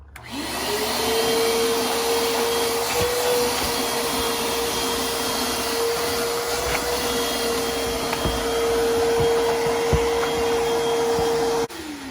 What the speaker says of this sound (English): So that's how the vacuum should go.